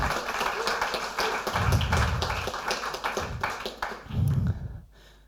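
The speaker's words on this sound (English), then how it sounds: "So please, another applause for them." Audience applause at a Wikimedia Foundation staff meeting, a sustained patter of many hands clapping at moderate volume that fades out near the end.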